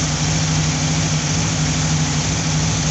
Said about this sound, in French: Bon alors là on va démarrer le véhicule.